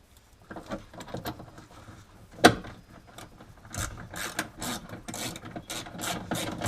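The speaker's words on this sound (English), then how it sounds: "You'll bolt it in right where the factory belt was." A wrench ratchets a bolt tight on an aftermarket seat belt mounted in the factory belt position of a drift car in a garage, giving close, repeated clicking bursts in quick uneven runs with one louder clack.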